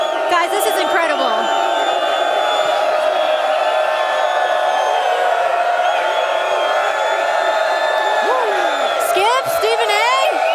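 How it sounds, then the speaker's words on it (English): A large live crowd at an outdoor sports talk show taping cheers and whoops steadily, loud and constant throughout, with voices shouting above the roar and a presenter talking over it. "What an amazing crowd."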